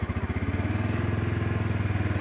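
A motorcycle engine idles steadily with a low, even, pulsing chug that runs the whole time at close range and fairly loud, with no voices over it.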